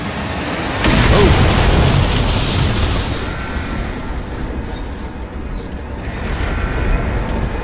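A deep, booming bomb explosion in the video game Dishonored erupts and rolls on, its rumble and debris noise slowly fading with a second swell near the end.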